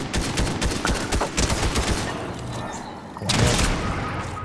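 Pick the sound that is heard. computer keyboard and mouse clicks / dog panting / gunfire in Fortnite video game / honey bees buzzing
gunfire in Fortnite video game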